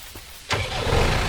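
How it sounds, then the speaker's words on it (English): A tractor engine in the farming video game Dinkum cranks and catches after a quiet moment, then settles into a steady, fairly loud running rumble. "let's actually get the tractor in there"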